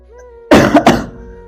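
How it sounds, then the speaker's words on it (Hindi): A man with a lingering cough, in a home setting, gives a single loud harsh cough burst followed by two quick shorter hacks, close to the microphone. "तो दोस्तों मेरी खांसी तो अभी भी चल रही है।"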